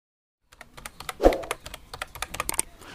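Keys clatter on a computer keyboard as a mobile number is entered, a quick irregular run of close, crisp taps that begins after half a second of silence, with one heavier thump near the middle and no talking.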